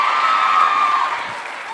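At a women's summit, a large audience claps and cheers in a loud sustained roar, with whoops and shouting voices over the applause that fade slightly near the end.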